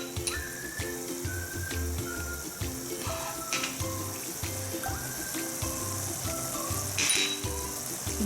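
Spices sizzle in a hot frying pan for chilli con carne, a steady bright hiss of frying with a constant bubbling crackle, close and continuous, with no talking.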